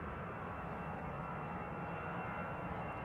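A Ryanair jet airliner rolls out on landing at Manchester Airport with reverse thrust, a continuous distant roar of engines that stays even and fairly faint throughout, with no voices.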